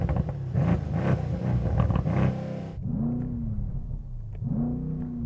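A stationary performance car, either a BMW M3 Touring with a straight six or an AMG C63 S Estate with a V8, revs loudly and close, with sharp rises and falls as the engine bounces against its limiter.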